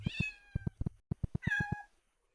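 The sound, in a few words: cat meowing, sound effect in a Unity game demo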